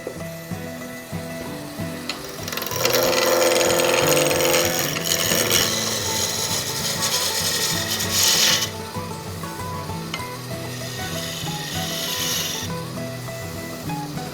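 A wooden acorn box being turned and hollowed on a lathe, a steady close rasping and scraping of the tool against spinning wood that rises, holds, then eases off, with no talk.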